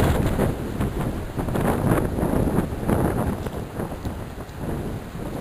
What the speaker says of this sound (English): Winds are blowing.